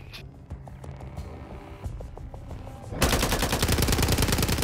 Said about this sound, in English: they're all three shooting at me